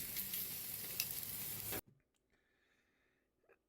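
Food turned on a hot grill gives a loud, close sizzle that cuts off abruptly, leaving near silence with a few faint, small knocks.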